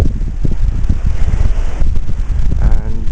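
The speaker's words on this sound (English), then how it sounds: "we're starting to get a bit windy, so hopefully you can still hear me" Low, blustery wind buffets the microphone in rumbling gusts, with no voice clearly heard.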